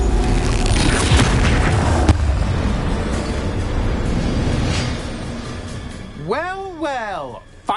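The Confringo explosive spell in Hogwarts Legacy: a loud, rumbling blast that fills the opening seconds, then fades into game sounds with rising and falling tonal effects near the end.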